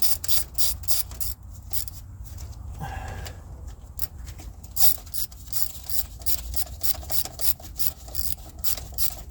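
A ratchet clicks in quick, steady bursts while tightening bolts in a crisscross pattern on a 1979 Ford F-100 that sat for years, close and loud with short pauses between runs.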